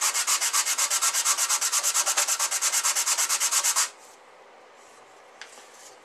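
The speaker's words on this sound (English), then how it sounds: "I'm going to sand the sides." A hand sanding a small wooden box by hand with sandpaper, a steady rhythmic back-and-forth scraping of about two strokes per second, close and fairly loud, stopping abruptly partway through and leaving quiet room tone with a few faint taps.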